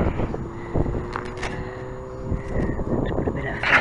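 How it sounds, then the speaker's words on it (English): Wind blows across the microphone outdoors during a quadcopter gimbal filming test, producing continuous rumbling buffeting with gusty flaps and some faint background sounds. "It's a bit breezy, but we'll give it a go."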